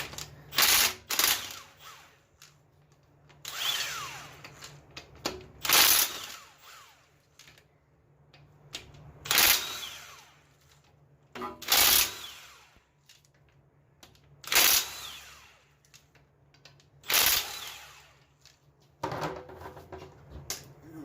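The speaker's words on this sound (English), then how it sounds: "First thing I want to do is I want to remove these flex plate bolts here." A tool loosens the flex plate bolts on a 1977 Chevy Camaro, producing repeated bursts of close, rapid mechanical clicking and ratcheting, about seven separate runs with short quiet gaps between them.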